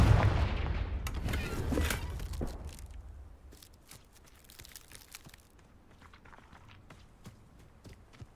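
A Confringo fire spell blast in Hogwarts Legacy on PC, a loud burst up front that rolls into crackling debris and scattered impacts, fading over several seconds into quieter sporadic clatter.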